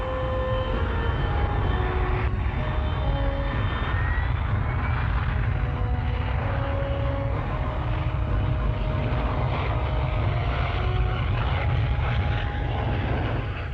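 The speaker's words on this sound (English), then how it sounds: "With nozzles turned downwards, the aircraft hovers on its own jet thrust." A jump jet fighter hovers on downward-turned jet nozzles, giving a loud, steady, broad jet roar with a constant rumble and shifting whine tones, heard alone without voices.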